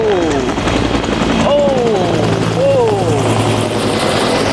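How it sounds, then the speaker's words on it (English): A helicopter thunders close overhead with a heavy, steady rotor chop, rising and fading as it passes, while people exclaim excitedly underneath. "this helicopter keeps coming around"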